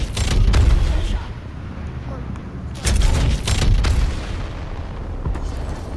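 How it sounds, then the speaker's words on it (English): A gravity cannon fires in a video game, giving deep booming blasts near the start and again midway over a continuous loud rumble of combat noise, with voices talking throughout. "We can use the gravity cannon here"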